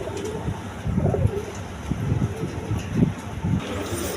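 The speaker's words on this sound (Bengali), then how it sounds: "একদম অরিজিনাল রেশাল কবুতর" Pigeons coo repeatedly at a pigeon farm, soft throaty calls in uneven bursts over a low background hum, fairly close and moderately loud.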